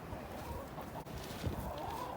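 Backyard chickens clucking softly at close range over a steady outdoor background, with no voices.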